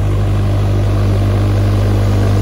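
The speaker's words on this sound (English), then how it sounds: "A proper tractor in the field." A tractor works a potato field, its engine giving a loud, steady low-pitched drone close by, unbroken and without speech.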